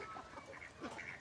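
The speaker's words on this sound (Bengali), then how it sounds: "রাজহাঁসকে খাবার দেওয়া হচ্ছে।" Geese feeding on rice bran give a short, close, continuous patch of honking and quacking-like calls, fairly quiet and without talk.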